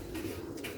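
Pigeon cooing, a short soft low call heard alone at close range from a high-grade fancy pigeon.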